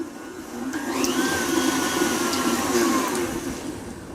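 An electric mixer beats butter for matcha cookie dough, a steady, loud whirring motor hum that ramps up in pitch at the start and then holds evenly, close and without talk.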